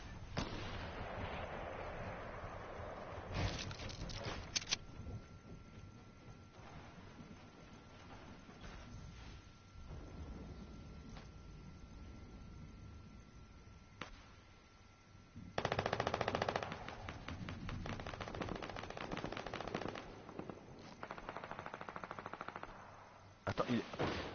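Sniper rifle and other gunfire in the Fortnite battle royale, several sharp cracks and bursts scattered across the clip, some loud and near, others distant, mixed with game noise.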